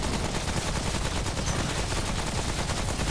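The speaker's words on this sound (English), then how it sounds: "Are you shooting it, Patrick?" Dense, continuous gunfire from the video game Remnant: From The Ashes, a loud unbroken barrage of rapid shots filling the whole stretch with no talking over it.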